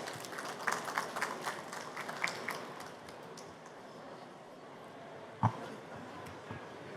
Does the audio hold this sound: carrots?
no